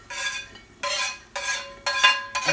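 Raw potatoes scraped and shuffled around a pan in four rhythmic bursts, each a clattering rattle against the metal, close and fairly loud, with no talk.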